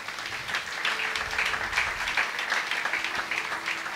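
A church congregation applauds at a seminar, a dense, sustained wash of clapping lasting a few seconds at moderate volume, no speech over it.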